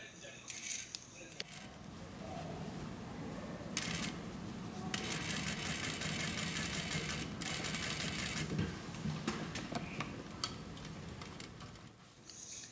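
A sewing machine stitching the side seam of a vest, a steady fast ticking whir running in several bursts with short pauses, fairly quiet and without talk.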